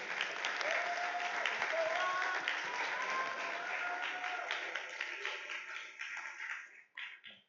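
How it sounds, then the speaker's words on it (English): An audience at an Astronomy on Tap science talk in a bar gives steady, fairly faint applause that fades out near the end, with a voice speaking over it. "All right, let's give Ron another round of applause."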